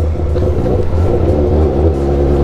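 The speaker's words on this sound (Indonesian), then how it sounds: "Asli, knalpotnya berisik." A loud vehicle exhaust revs close by with a deep, throbbing rumble that swells and holds steadily through the short stretch, with no voices.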